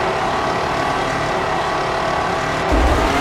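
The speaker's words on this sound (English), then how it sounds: "Alonso drives into the pits." Formula One car engine from the F1 05 racing game pulling into the pit lane, a steady loud broadband whine with a low rumble swelling near the end.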